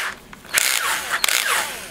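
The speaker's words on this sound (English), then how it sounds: "going to turn our torque down to about 3 on this drill" A cordless DeWalt drill, torque clutch set low, drives a Phillips head screw into a MAME arcade cabinet front panel, whirring in short close bursts with brief pauses between them.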